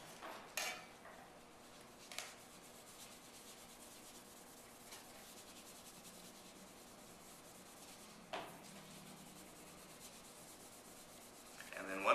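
A sponge soaked in rubbing alcohol scrubs graffiti off a glass surface, giving a soft, steady rubbing hiss throughout with a few sharper scraping knocks scattered through it.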